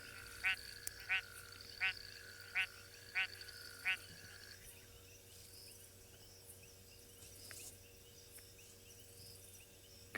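A broad-banded grass frog calls at night in the South African bush, giving a series of short, evenly spaced rattling clicks over about four seconds, then stops, against a steady hum of insects and faint background noise.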